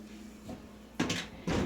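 An oven door shuts after bread goes in, giving two quick clunks, the second closing firmly, fairly close in a quiet kitchen.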